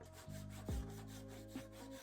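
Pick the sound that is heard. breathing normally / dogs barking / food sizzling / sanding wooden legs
sanding wooden legs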